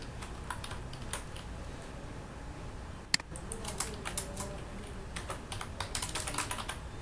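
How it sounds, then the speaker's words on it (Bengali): HTML code is typed on a computer keyboard with a steady stream of quick, close key clicks, one sharper key strike midway, over a faint constant background hiss. "এখানে HTML লিখি"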